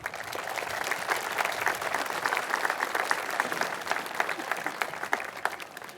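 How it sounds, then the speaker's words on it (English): A crowd claps steadily and dense at a Swampscott High School graduation ceremony, sustained applause with no break. "give a round of applause for the village that has gotten you here to this moment"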